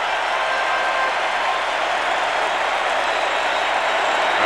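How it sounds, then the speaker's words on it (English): A baseball crowd at the 1991 World Series Game 7 between Atlanta and Minnesota gives sustained loud applause and cheering for Kirby Puckett, a dense, unbroken roar filling the ballpark. "they applauded long and loud last night for this fella, and they're doing it again"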